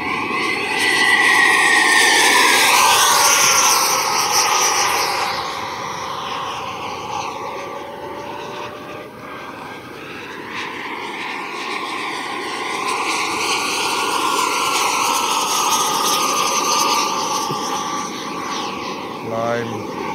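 A Freewing Avanti S model jet with a 2.8 kW WeMoTec Midi Evo 80 electric ducted fan on 6S Li-Ion packs whines loudly at full throttle through a deep dive, its steady rushing roar shifting in pitch as it passes overhead.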